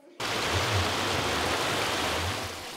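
The fast-flowing Cauca river in Colombia, at the crossing between Jericó and Fredonia: a loud, continuous rushing roar of water that starts abruptly and holds steady close by.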